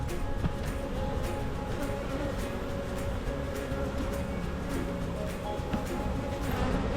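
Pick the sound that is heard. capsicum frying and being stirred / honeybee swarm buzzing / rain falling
honeybee swarm buzzing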